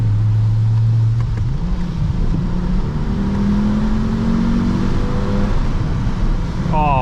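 A loud Volvo T5 engine drones and revs unevenly, its pitch climbing in stuttering steps as it strains without traction, close and continuous.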